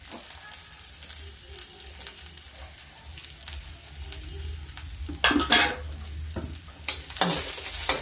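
Onion, green chili and ginger fry in a pan with a steady low sizzle and repeated spatula stirring, close by, with a few sharper scraping bursts toward the end.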